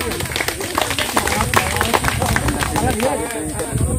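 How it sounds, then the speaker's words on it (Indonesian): An audience at a village facilitators' jamboree in Manggarai Timur claps hands in a dense, steady patter that lasts the whole stretch, mixed with crowd noise and a voice talking over it. "mari kita tepuk tangan"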